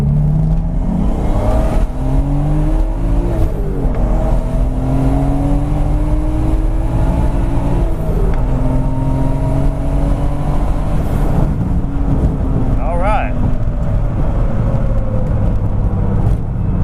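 A turbocharged BMW Z3 M Coupe accelerates hard on an empty test road, its engine note climbing steadily through several long pulls with shifts between them, loud and close, with no talk over it.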